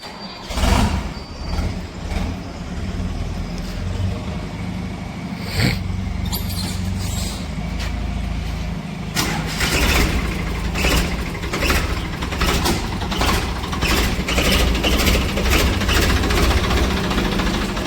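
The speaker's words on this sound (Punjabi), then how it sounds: "ਆਪਾਂ ਲੱਗਾ ਆ ਤੋਰਾ ਚੈੱਕ ਕਰਨ ਦੋਨਾਂ ਟਰੈਕਟਰਾਂ ਦਾ" Two tractors run with loud, rumbling diesel engines, steady and close, with knocking pulses and occasional clanks and bursts as the engines rev.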